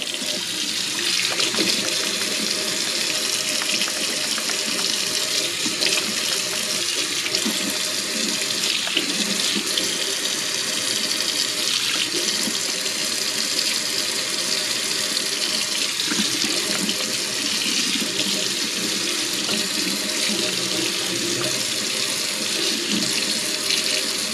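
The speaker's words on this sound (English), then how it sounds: "So give it a good scrub and a rinse in hot water." Hot tap water runs steadily over kitchenware being rinsed in a sink, a continuous close splashing hiss with small clinks and shifts as items move under the stream, no voices.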